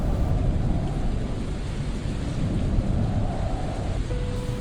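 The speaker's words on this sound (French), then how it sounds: "Le tonnerre grondait sur les collines." A low, sustained rumble of thunder rolling steadily, with a soft wash of rain-like noise over it and no voices.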